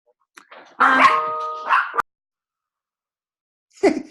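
A dog barks nearby indoors, with a loud, drawn-out burst of barking and yelping followed by silence, then one more short, sharp bark.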